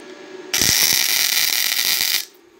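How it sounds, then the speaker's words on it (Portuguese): Welding inside a broken bolt to fill it for extraction: a loud, steady crackling hiss starting abruptly, holding for under two seconds, then cutting off, close by and with no voices. "Vou soldar lá dentro, aí eu vou encher ele aí dentro"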